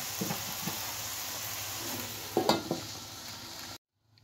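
Tempe stir-fried with chayote in a pan gives a steady close sizzle, with a few scraping stirs of the spatula near the end before it cuts to silence.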